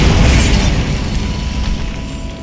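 A Bombarda blasting spell explodes in the Hogwarts Legacy video game, a loud booming burst at the start that rolls into a long rumbling decay.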